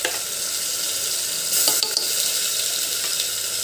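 Green chilies and onion sauté in hot oil in a pan for a Tamil-style botti (intestine) gravy, giving a steady close sizzle with a short burst of louder stirring scrapes partway through.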